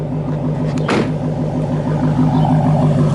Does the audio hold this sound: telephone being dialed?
no